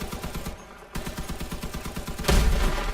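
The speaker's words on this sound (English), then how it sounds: "I hit that fuel tank." A fuel tank on a combat vehicle explodes in the Crossout video game amid rapid, rhythmic gunfire, ending in a louder, sustained blast burst near the end.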